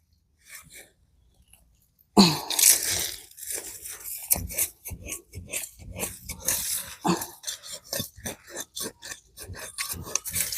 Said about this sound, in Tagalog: Kailangan natin silang hukayin